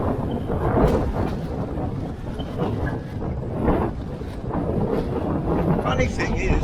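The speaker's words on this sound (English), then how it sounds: "It's become quite windy now" Strong wind buffets the microphone on open water during a paddle across a bay, a continuous rumbling roar with gusts and no clear voices.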